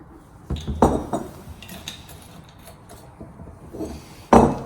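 Glassware clinks and taps while concentrated sulfuric acid is stirred into ground potassium dichromate and water under a fume hood: a few sharp chinks near the start, quieter scattered clicks, then one loud clink at the end.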